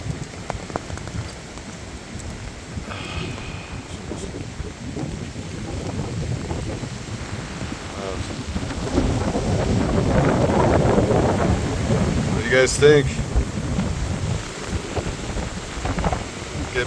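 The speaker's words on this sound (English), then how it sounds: "Getting pretty stormy here." Stormy weather outdoors on Mt. Davidson in San Francisco: steady rain and wind rumble across the mic, with a low thunder-like swell midway, while someone speaks briefly near the start.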